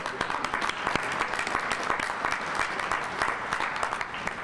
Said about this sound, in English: give all of you again a round of applause for your volunteerism